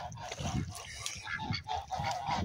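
Domestic ducks or geese honk and call repeatedly beside a waterlogged, swampy yard after a night of December rain and snowmelt, the calls close and fairly loud in irregular bursts.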